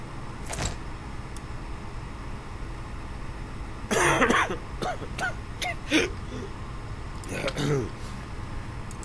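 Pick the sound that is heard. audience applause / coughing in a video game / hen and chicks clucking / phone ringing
coughing in a video game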